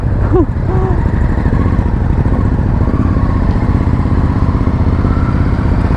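A Ducati Hypermotard SP motorcycle on a test ride, its engine droning loud and steady close by, with a brief rising rev near the start and wind rush behind.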